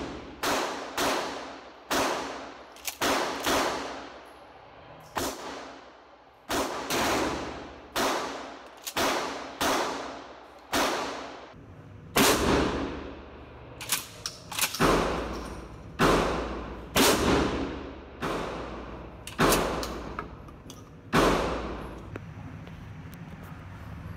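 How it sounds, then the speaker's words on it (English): A Mossberg 590 12 gauge shotgun fires Winchester and reduced-recoil double-aught buckshot outdoors, about twenty sharp, loud blasts at irregular intervals, some in quick pairs, each with a short decaying echo. "also some Winchester 12 gauge double-aught buck"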